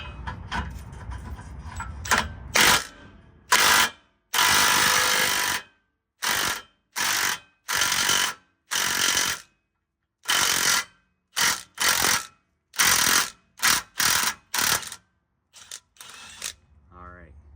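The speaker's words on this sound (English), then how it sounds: "Let's see if it's loose enough for the drill now." Power drill loosening an 18mm bolt on a Chevy Tahoe during a suspension drop, heard as a series of loud, short bursts of whirring and clattering, separated by brief silences.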